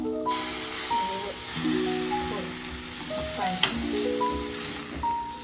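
Vegetables sizzle and fry in a full kadhai, a soft steady hiss with occasional stirring scrapes and one sharp clink, fairly quiet and close, with no talking.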